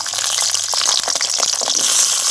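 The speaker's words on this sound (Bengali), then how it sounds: "এই যে মুসা ভাজবো আমি, আলুটা যে ভাজে নেব।" Potatoes sizzle and fry in hot oil for a vegetarian dal-and-vegetable dish, giving a steady, close hiss with small crackles throughout and no talking.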